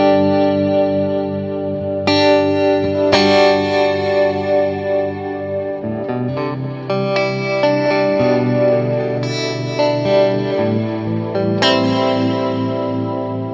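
An electric guitar plays sustained chords through swell reverb from a Big Sky pedal and a tremolo pedal, swelling in smoothly and washing into long reverb tails with a wavering shimmer, alone with no talking.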